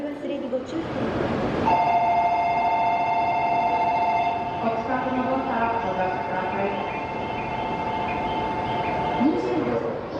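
An E5 Shinkansen sits at a station platform, with a steady electric hum and tonal platform chimes ringing over station bustle while someone talks.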